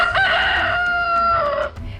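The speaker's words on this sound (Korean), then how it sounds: "멀리서 닭 우는 소리가 들렸습니다." A rooster crows once as a storytelling sound effect, a clear, loud, drawn-out cock-a-doodle-doo lasting under two seconds that trails off, with no talking.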